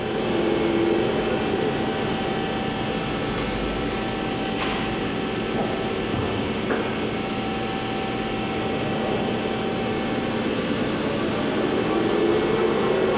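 A 2007 Johnford ST-40G-CF CNC lathe runs its spindle slowly in the second gear range, giving a steady, even mechanical hum with faint tonal whine and a couple of small clicks.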